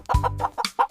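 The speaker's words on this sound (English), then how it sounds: "Can you cluck, cluck, cluck like a huku?" A single chicken clucks close to the microphone in a quick run of short, throaty clucks, loud and alone with no other sounds around it.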